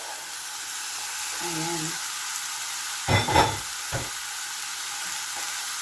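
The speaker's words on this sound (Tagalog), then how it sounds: "At ilagay ko na ang ating carrots." Carrots sizzle in a frying pan for a Filipino stir-fry of bean sprouts and tofu, a steady hiss with a couple of louder stirring clatters midway, while someone speaks briefly.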